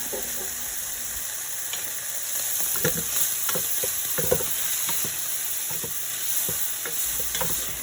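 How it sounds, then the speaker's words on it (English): Chicken fried rice sizzling steadily in a hot pan as soy and hoisin sauce are stirred in, with a constant hiss and soft clicking stirs throughout. "Now you're going to add your soy sauce and hoisin sauce and just mix that in really well."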